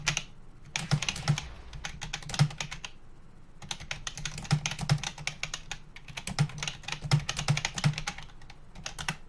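Quick bursts of typing on a computer keyboard, close and moderately loud, with clustered rapid keystrokes and short pauses across the whole stretch.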